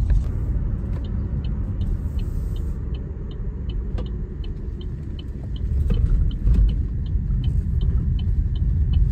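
A car drives steadily along a road, a continuous loud low engine and tyre rumble with light rattles and faint periodic ticking throughout, no talking.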